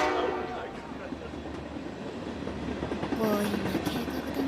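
Train ambience from the video game 428: Shibuya Scramble: a steady rolling rail rumble with carriage noise throughout, a brief horn-like tone rising near the end, and faint speech-like murmur underneath.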